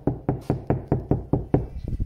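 Knuckles knocking on the sound-deadened door panel of a 2012 Hyundai i40, about eight close, evenly spaced dull thuds in quick succession.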